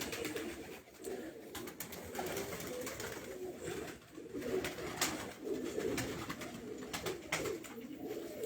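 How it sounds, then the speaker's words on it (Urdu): A flying pigeon coos near a rooftop loft, soft repeated throaty coos in loose rhythm over faint background noise and scattered clicks, no talk. "ایک پروازی کبوتر جو 11 پروازیں اڑا ہے"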